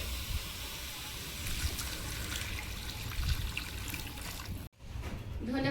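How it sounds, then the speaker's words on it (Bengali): Water pours steadily into a pan of prawns cooked with spices, a continuous close trickling and splashing that lasts several seconds, with a brief cut near the end and no talking. "এবারে জল দিয়ে দেবো।"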